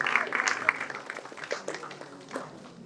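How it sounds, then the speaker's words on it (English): An audience claps for a contestant at a talk competition session, a brief, moderately faint patter of many hands that thins out toward the end. "Huge round of applause for contestant number 46."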